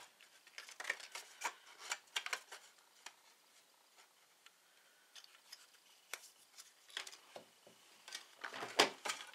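Scissors snip through card for a handmade fishing box card, a series of faint, close, crisp cuts in quick clusters separated by quiet gaps.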